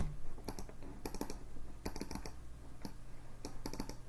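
Computer keys are pressed in quick bursts for shortcuts during music production work, producing small clusters of crisp clicks spaced about half a second apart over a low steady hum, close and fairly quiet.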